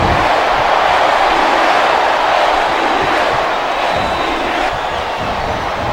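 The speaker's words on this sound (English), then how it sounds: "I cannot remember the last time I've seen a crowd this pumped up" A dense, steady roar of cheering comes from the arena crowd in the WWE SmackDown vs Raw 2008 video game during a Shawn Michaels vs Bret Hart wrestling match. It stays loud and even throughout with faint thuds underneath.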